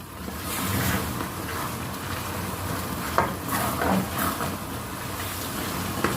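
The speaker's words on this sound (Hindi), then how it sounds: "आधा कप देसी घी शामिल कर देंगे। आप नाशपाती घी भी डाल सकते हैं और इसको बहुत अच्छे से भूनेंगे।" Grated carrot halwa sizzles steadily in desi ghee in a pan, a soft continuous fry with occasional scraping stirs and a brief clink partway through, close and unaccompanied by talk.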